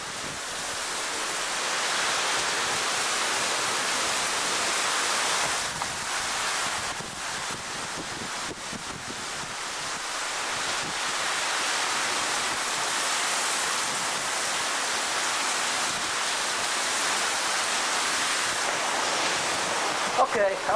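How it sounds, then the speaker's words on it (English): Intense storm wind during a severe December thunderstorm, a loud continuous roar of broadband wind buffeting the microphone for the whole stretch, with gusty swells and no clear voices over it. "This wind is intense, man."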